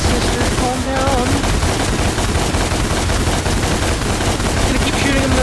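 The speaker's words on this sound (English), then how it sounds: "I'm gonna keep shooting him in the goddamn face" Rapid gunfire from a firearm in Devil May Cry, aimed at an enemy's face, a dense continuous barrage of loud shots across the whole stretch with brief voice fragments mixed in.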